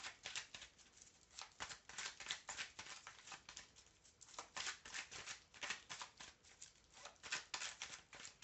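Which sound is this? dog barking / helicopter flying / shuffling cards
shuffling cards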